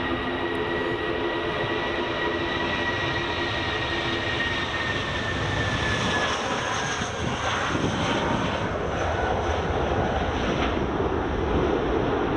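Jet airliner accelerating down the runway on takeoff at Edinburgh Airport, a steady loud engine roar that swells and broadens over about twelve seconds, with no talk over it.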